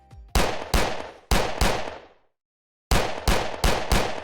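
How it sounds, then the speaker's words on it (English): Bullet impacts in a Unity multiplayer shooter strike the ground nearby in sharp, loud bursts, several quick hits, a short silent gap, then another rapid cluster. "you can still hear the bullets hitting the ground around you"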